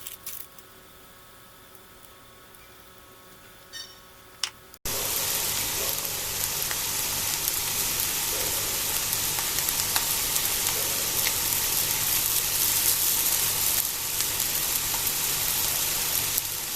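Sardines dry-frying in a pan with no oil, seasoned with pepper: a steady, loud, dense sizzle kicks in suddenly after a few seconds of quiet and keeps on evenly for the remainder.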